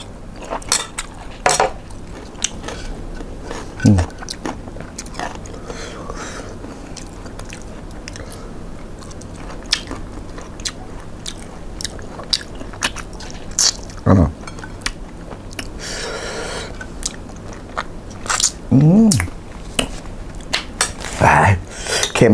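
Someone eats Thai spicy crab salad (yam pu pan), with close, scattered crunches, bites and clinks of cutlery on a plate in bursts across a quiet room; occasional low voices are heard.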